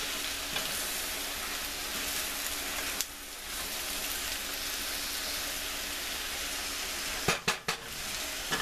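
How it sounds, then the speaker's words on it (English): Tofu stir-fries in a hot pan for yakisoba, a dense, steady sizzle heard up close with brief dips and a few sharp knocks of a utensil near the end, no talking. "Now I'm going to add my tofu."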